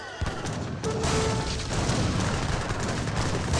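Grenade launcher fire in Age of Empires 3, a dull boom followed by a continuous rumbling roar of distant battle explosions, loud and steady throughout.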